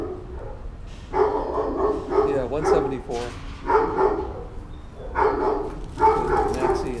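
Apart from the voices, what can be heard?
dog barking in shelter play yard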